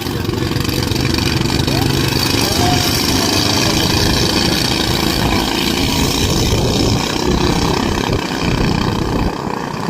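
A loud, steady motorboat engine drones continuously close by, from a boat with three engines, a rough mid-range rumble with constant intensity throughout.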